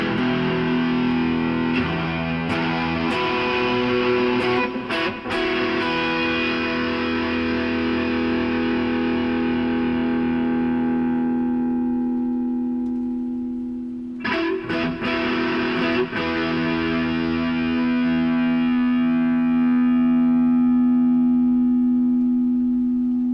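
Electric guitar played through a Boss Katana amp with delay, sustained distorted chords and picked notes ringing on with repeating echoes, loud and continuous with a brief dip near the middle before another strummed swell.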